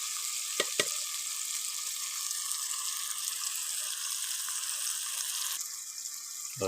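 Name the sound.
masala (spice paste) frying in a pan for sev tameta shaak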